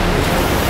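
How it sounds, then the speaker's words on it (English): Cartoon flood water rushing through, a loud, steady, broadband wash that fills the whole brief moment with no pauses. "The water is rushing over here!"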